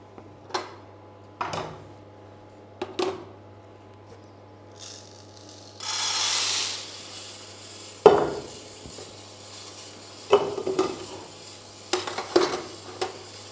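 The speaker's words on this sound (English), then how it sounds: "Now the beans are in the roaster and the roast has started, so they're being moved in the roaster." Coffee beans being stirred and tumbled inside a coffee roasting machine of up to 1 kg capacity, giving scattered clattering and rattling bursts over a steady low mechanical hum, with a louder rushing stretch midway.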